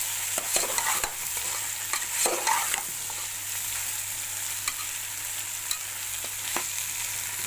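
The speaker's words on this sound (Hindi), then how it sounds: "अब इनको मिक्स कर लेंगे" Long-sliced onions fry in a pan, a steady sizzle under bursts of stirring and spoon scrapes, close and continuous with a low hum throughout.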